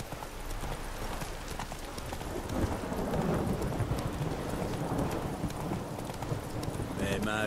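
Horse hooves clip-clopping in the video game The Witcher 3: Wild Hunt, Blood and Wine expansion, a steady galloping rhythm under a spoken voice, with a dull rumbling background throughout.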